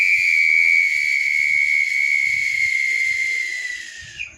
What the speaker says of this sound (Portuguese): e à medida que ele apitava